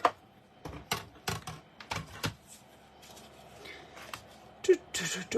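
A die-cutting machine cutting card pieces for a handmade birthday card, with rattly clicks and clunks, a short stretch of grinding rolling, and a few sharper knocks close by.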